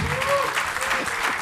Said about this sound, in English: I want a big round of applause for our 2 big stars today here, Anil Gilani and Jaina Gandhi